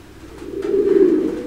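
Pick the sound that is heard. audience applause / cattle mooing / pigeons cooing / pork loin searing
pigeons cooing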